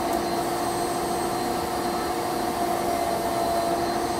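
An air abrasion machine blasts aluminum oxide powder at low pressure onto trilobite fossils, a steady, loud hissing rush with a faint tonal whine, continuous throughout without pauses.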